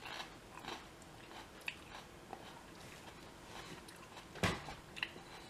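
A home-bred pepper is bitten and chewed at a taste test, giving faint, close crunches and soft moist chewing with a couple of sharper bites, quiet and alone.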